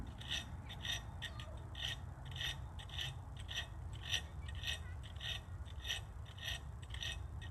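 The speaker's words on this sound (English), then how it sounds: "So I'm using a square diamond file, 60 grit I believe" A 60-grit square diamond file rasps across a hand-forged 52100 steel kitchen knife blade in a quiet, steady rhythm of short strokes, each a scratchy sweep repeating about twice a second, close up and without talk.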